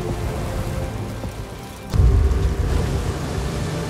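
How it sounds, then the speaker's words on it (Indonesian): A heavy storm at sea drives steady rain, and a deep, loud rumble of thunder rolls in partway through, under constant downpour. "Namun tiba-tiba, badai besar datang menghadang."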